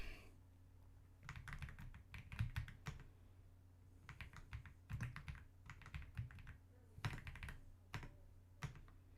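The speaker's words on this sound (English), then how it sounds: "And let me start typing." Bursts of clattering keystrokes on a computer keyboard come in irregular runs with short pauses, close and moderately loud over a steady low hum from a livestream setup.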